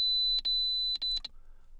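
A C-more Micro HMI operator panel sounds its alarm: a clear high-pitched electronic tone that beeps in short pairs, three double beeps spaced across under a second, with no talking.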